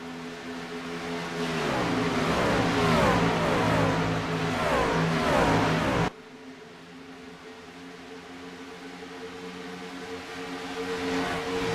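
Race cars roar past in a loud, dense pass during a stock car race with lapped traffic mixed among the lead-lap cars, engines sweeping by before dropping abruptly to a quieter, steadier drone of more distant cars.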